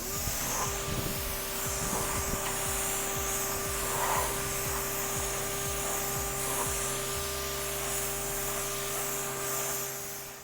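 A car is rinsed with a pressure sprayer after a pre-wash, a continuous loud spraying hiss with a steady machine hum underneath and irregular splatter against the body.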